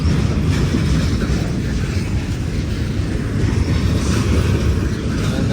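A long BNSF freight train rolls steadily past, a loud continuous rumble with rail noise and wheel clatter holding at constant volume throughout.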